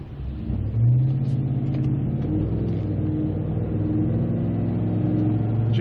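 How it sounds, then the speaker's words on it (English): Car pulling out onto the road, a close engine rumble that swells as it accelerates and then holds as a steady throaty drone, loud and without talking. "there's a car getting ready to pull out."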